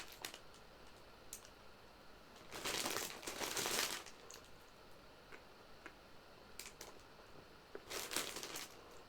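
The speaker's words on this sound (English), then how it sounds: "Hearing a lot of chip rustling, though." Crinkly rustling of a chip bag comes in two loud bursts, one longer and one shorter, close to the microphone, with faint scattered ticks and clicks between them and no talking.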